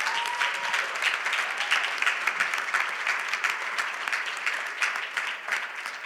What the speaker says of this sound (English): Can we give Tyler a round of applause?